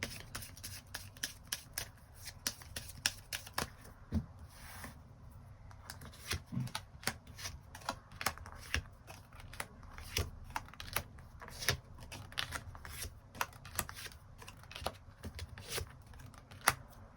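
Tarot cards being shuffled and drawn at close range, a long run of crisp, rapid card flicks and riffles with brief pauses, quiet and continuous with no voice.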